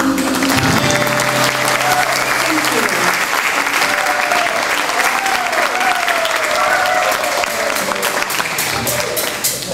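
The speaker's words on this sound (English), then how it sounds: "The horn section always gets an incredible applause" Loud, dense audience applause for a horn section at an outdoor Music in the Park folk concert in 2009, sustained clapping filling the whole stretch with a few cheers and faint voices underneath.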